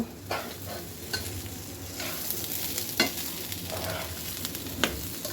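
Rice, spices and green chilli for khichuri frying in a pot, with repeated scraping, clanking stirs of a spoon over a soft continuous sizzle, close and moderately quiet.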